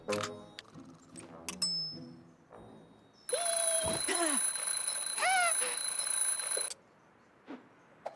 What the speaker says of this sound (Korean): 자명종을 고쳐 오빠를 깨우는 여자아이.